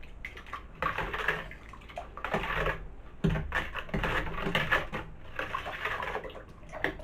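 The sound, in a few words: vigorously stirring sugar into cherry wine must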